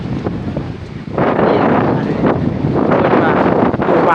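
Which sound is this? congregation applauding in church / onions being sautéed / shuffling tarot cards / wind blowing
wind blowing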